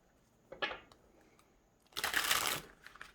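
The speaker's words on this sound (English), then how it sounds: "We're just going to shuffle these so we can go on to pile 3." Tarot cards being shuffled by hand, a short riffle followed by a louder, longer burst of rustling card slaps, close and quiet with no talking.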